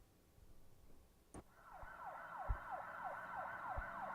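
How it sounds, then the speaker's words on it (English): A wailing emergency siren rises from about 1.5 seconds and sweeps up and down in a steady, repeating yelp, moderately distant, preceded by a sharp knock and faint background rumble, with no talking. "See, you hear the sirens?"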